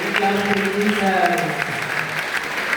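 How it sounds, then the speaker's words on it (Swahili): A church congregation claps together in steady applause, fairly close and loud, while a voice keeps speaking or singing over the clapping throughout. "Ndio Bwana makofi"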